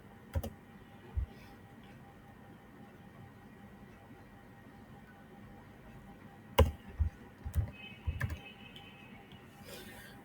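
A few scattered keystrokes on a computer keyboard during Visual Studio Code setup, one or two isolated taps early and then a short cluster of clicks, quiet against a faint steady room hum.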